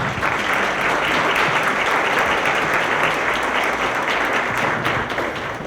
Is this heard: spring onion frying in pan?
no